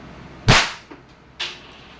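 Crosman Mag Fire Ultra .22 break-barrel airgun fires one sharp, loud crack followed by a short echo tail, with a smaller click afterward and a second sharp mechanical snap near the end, no talking.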